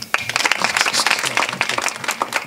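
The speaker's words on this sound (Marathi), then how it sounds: "टाळी वाजवा" An audience at a kirtan claps, a dense burst of many hands that holds steady for a couple of seconds.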